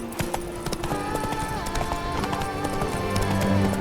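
In The Witcher 3, Roach the horse gallops hard, with a fast, continuous drumming of hoofbeats close by and faint background game sounds layered underneath.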